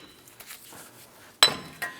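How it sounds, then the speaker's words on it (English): A hammer strikes the edge of a wheel hub on a 1997-2006 Jeep Wrangler to free it from the steering knuckle. A sharp metallic clank rings out, then a second lighter tap follows, over a quiet shop background. "You can usually use a hammer and tap this around the edge here"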